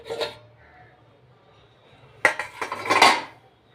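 A metal lid is lifted off a covered cooking pot, giving a short clink at the start, then a quiet pause before a burst of clattering, scraping metal-on-metal knocks and rattles, close and fairly loud.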